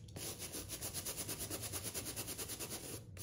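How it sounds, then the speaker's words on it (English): A brush scrubs a hiking shoe treated with foaming cleaner, giving a steady, rapid series of close, rhythmic rubbing strokes heard alone. "Just want to scrub it a bit clean."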